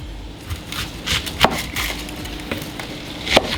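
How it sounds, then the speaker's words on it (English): A knife cuts down through an onion on a board, giving a few separate irregular chops and taps close by amid quiet handling noise, with no speech. "the first thing is just to cut the onion down"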